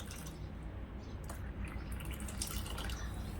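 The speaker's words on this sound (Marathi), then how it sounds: "आता यामध्ये ना राहिलेलं माठातलं पाणी घालून घ्यायचंय" A steady, hissing stream of water pours from a clay pot and splashes continuously into a vessel, close by, with no voices.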